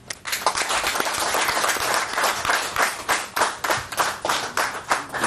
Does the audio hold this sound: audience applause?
yes